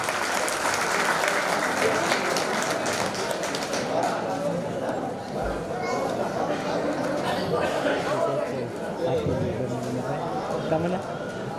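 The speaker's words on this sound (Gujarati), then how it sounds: "બધા જોરદાર તાળી વધાવો." A crowd at a community gathering claps loudly and steadily for about twelve seconds, a thick unbroken wash of hand claps with voices mixed in.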